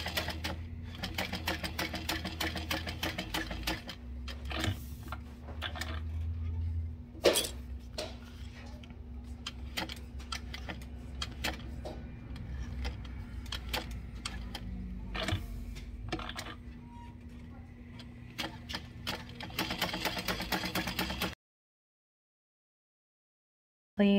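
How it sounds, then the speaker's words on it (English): A sewing machine back stitches over a seam at the top of a bag pocket, running in rapid bursts of needle clatter with short pauses between runs, close and steady, then falling quiet near the end. "I'm going to back stitch over that seam and where the top of the pocket ends."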